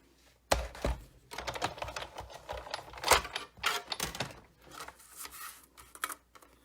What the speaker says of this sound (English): now I'm going to bring in the big shot so I can cut him out.